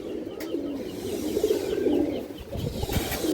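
An old-line Mookhi (Muslim) breed male pigeon with a boot-shaped beak coos close by in repeated low, throaty phrases, with no talking.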